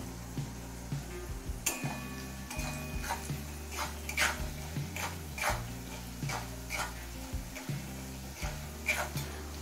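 Repeated scraping and clinking of a spoon stirring turmeric, chilli powder and salt in a pan, steady and close, over a low sizzle and a constant background hum.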